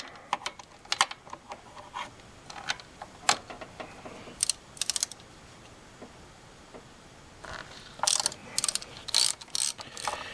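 A ratchet with a 13mm deep socket loosens bolts while a thermostat is replaced on a Chevy Blazer S10 or GMC Jimmy with the 4.3 Vortec, producing quick bursts of crisp clicking pawl ticks at close range with short pauses between them.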